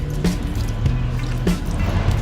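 Vinegar is poured into a sweetened dipping sauce with a little chili, a short run of soft drips and splashing liquid, close and moderately loud.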